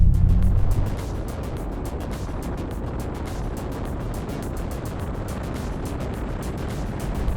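An Audi RS e-tron GT electric car drives on a test track in Dynamic Mode, a steady low rumble of road and wind noise with a faint rhythmic ticking, loud and continuous throughout.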